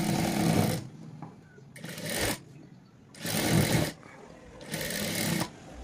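Sewing machine stitching fabric in four separate bursts of fast mechanical whirring and needle chatter, each lasting under a second to about a second, close up, with quiet pauses between them.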